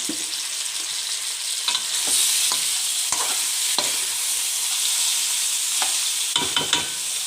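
Chicken and garlic fry in a pan with a loud, dense sizzle, while a utensil stirs them in intermittent scraping strokes close by.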